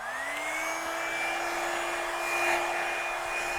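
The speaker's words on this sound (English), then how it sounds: "next I'm going to get my Revlon one-step hair dryer" A Revlon One Step hair dryer and styler blows steadily on its low setting, a constant airy whoosh with a thin motor whine that holds unchanged throughout.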